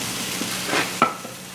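Pork chops sizzle steadily in a hot pan while being flipped, with a soft frying hiss throughout and a brief sharper clatter as a chop is turned over; fairly quiet and close, with no talking.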